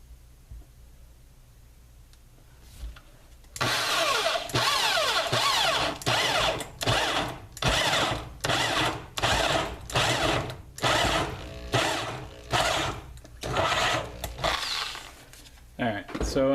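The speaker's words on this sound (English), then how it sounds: "I think doing it with a hand drill is a better option all around" A hand drill grinds into a box mod enclosure in repeated cranking strokes, roughly a dozen rhythmic bursts of rasping mechanical noise, close by after a quiet start.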